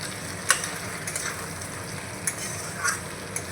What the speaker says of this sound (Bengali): গুঁড়ো মশলাগুলো দিয়ে আমি নাড়াচাড়া করে মিশিয়ে নিয়েছি।